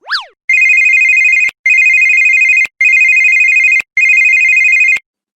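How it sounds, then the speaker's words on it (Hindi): Telephone bell ringing loud and close in four long, evenly spaced rings, each with a bright metallic trill, after a brief rising chirp at the start. "तो बेटा के फोन हा तो बाजा थे, उठाना"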